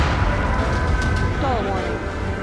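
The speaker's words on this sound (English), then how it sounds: "They're bombing us!" Bombing explosions in the jet combat game Ace Combat 7, a steady low rumble of blasts under radio chatter and shouting voices, with brief whistling tones partway through.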